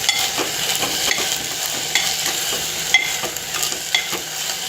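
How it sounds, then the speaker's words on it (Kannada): Sprouted horse gram being stirred in a hot pan, with a continuous sizzle broken by repeated scraping strokes of the spoon, close and alone. "ನಂತರ ಹುರುಳಿ ಮೊಳಕೆ ಕಾಳು ಹಾಕ್ಬಿಟ್ಟು ಅದನ್ನು ಮಿಕ್ಸ್ ಮಾಡಿ ಚೆನ್ನಾಗಿ"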